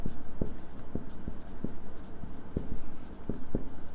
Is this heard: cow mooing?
no